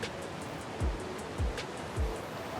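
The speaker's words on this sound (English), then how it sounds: "You can't hide behind this waterfall because, as you can see, it's see-through." Steady rushing water from a waterfall in the video game Ark: Valguero, a soft continuous wash with a few low thumps and faint ticks layered over it; no speech.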